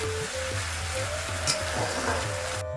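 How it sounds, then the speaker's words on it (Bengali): Ginger garlic paste fries with onions in a pan, giving a soft, steady sizzle and crackle that runs continuously and quietly, with no talking. "আদা রসুনের পেস্টটা একটু ভালো করে কষিয়ে নেব"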